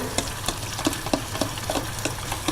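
Steady sizzling of marinated chicken frying in a pan, with occasional soft clicks and stirring knocks scattered through the hiss.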